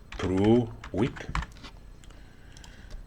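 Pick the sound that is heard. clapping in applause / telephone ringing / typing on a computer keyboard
typing on a computer keyboard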